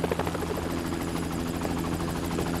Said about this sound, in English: We called in the chopper.